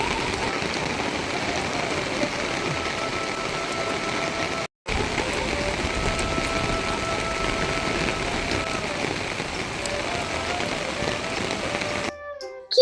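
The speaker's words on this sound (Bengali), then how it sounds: "কি বৃষ্টি পড়ছে, এখন কিভাবে বাড়িতে যাব?" Steady rain pours down outdoors in a rural spot, a continuous hissing patter on leaves and ground that stays even throughout, with a faint voice at moments.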